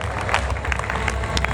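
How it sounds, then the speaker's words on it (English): Graduating IB students at a graduation day ceremony clap together in a hall, a dense, steady wash of applause with crowd murmur throughout. "So IB students, please clap for yourselves."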